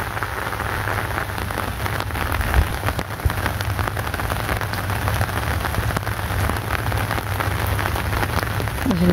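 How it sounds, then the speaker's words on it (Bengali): Rain pours steadily in a village beside a temple, a loud dense hiss of drops striking surfaces that continues unbroken with no voices. "তো বৃষ্টির দিন, অনেক সুন্দর একটা দিন।"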